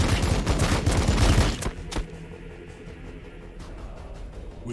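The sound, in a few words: units firing weapons in Warhammer 40,000: Battlesector video game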